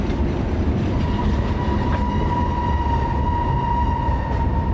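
CSX freight train cars rolling past on the Memphis East End District, a steady loud rumble with faint wheel clatter and a sustained high tonal squeal running throughout, no voices.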